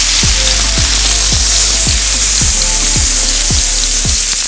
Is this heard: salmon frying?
yes